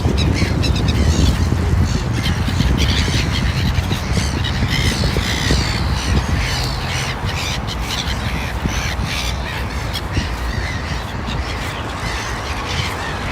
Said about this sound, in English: Steven Seagulls.